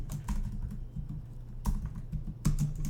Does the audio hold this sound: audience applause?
no